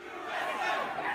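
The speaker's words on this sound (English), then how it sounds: "This was the moment the mob stormed Congress." A pro-Trump mob storming the US Capitol in protest of the election result: a dense roar of many shouting voices, loud and continuous, swelling slightly as the crowd yells together.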